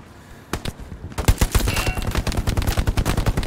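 Machine gun fire in the World War II shooter Hell Let Loose rattles out in rapid, sustained bursts, loud and close, after a brief quieter lead-in, with no talking over it.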